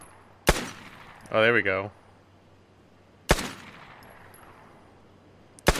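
Gunshots from a weapon in the video game Vigor, three sharp isolated cracks spaced a few seconds apart, loud and close, with a brief spoken remark between the first two.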